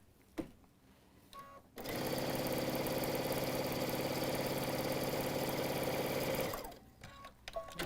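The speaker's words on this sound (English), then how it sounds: "I'm going to sew this side together" A sewing machine stitches the side seam of a tote bag in one continuous run of about five seconds, a steady fast whir preceded and followed by quiet handling noises.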